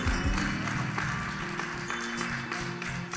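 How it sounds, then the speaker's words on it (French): A church congregation applauds at a worship service, a dense, steady wash of clapping that fills the whole stretch, with sustained keyboard or organ tones ringing underneath. "Est-ce qu'on peut faire un autre applaudissement pour Damio"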